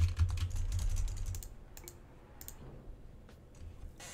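Computer keyboard keys tapped during a game, a dense cluster of clicks at the start thinning to scattered single presses, close and moderately loud with no talking.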